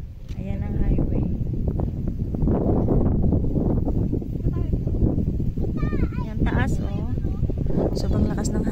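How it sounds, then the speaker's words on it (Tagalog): Strong wind buffets the microphone with a constant rough rumble beside a highway in Wao, Lanao del Sur, while a person talks over it and birds call faintly in the background. "Sobrang lakas ng hangin dito."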